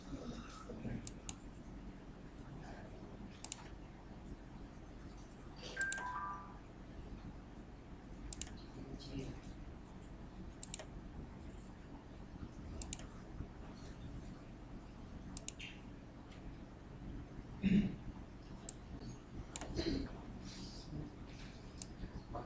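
Sparse computer mouse clicks tap out irregularly during a tutorial for the Alice programming environment, soft and close, over a quiet hiss with scattered small clicks and occasional faint background sounds.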